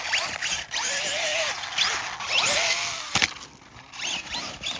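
Traxxas Slash RC truck with a broken axle, its electric motor whining in rising and falling pitch sweeps as it is driven, with a sharp knock partway through.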